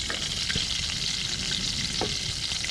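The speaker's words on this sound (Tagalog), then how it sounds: "Gigisahin po natin." Continuous hissing sizzle of fish sautéing in a hot pan, steady and close, with a few soft clinks from stirring and no voices.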